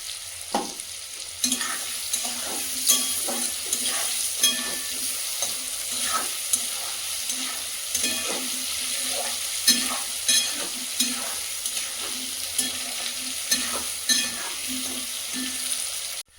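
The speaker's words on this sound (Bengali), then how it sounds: "আলুগুলো ভাজা হয়ে গেছে, এবার তুলে নেব।" Potatoes fry in oil in a pan with a continuous hissing sizzle, punctuated by regular scraping taps of stirring, close and steady throughout.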